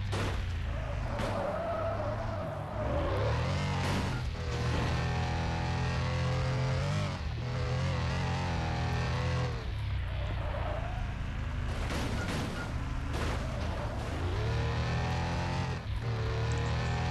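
The Celestial car in the Demolition Derby 3 video game drives with a continuous engine drone, and repeated tire squeals and skids rise and fall over it, loud and without any talk.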